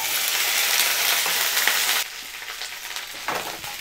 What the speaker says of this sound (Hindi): अभी हमें सबसे पहले यहाँ पे भिंडी को फ्राई करना है।